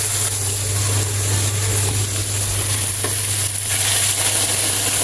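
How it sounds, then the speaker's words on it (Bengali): Fried spice paste for a fish curry sizzles loudly and steadily in the pan as hot water goes in, a dense hiss over a constant low hum with no voices. "এখন আমি গরম পানি দিয়ে দিব।"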